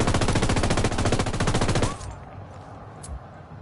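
Automatic gunfire from a Ghost Recon Wildlands firefight, a loud, dense rapid burst of shots lasting about two seconds before cutting off abruptly into quieter game ambience.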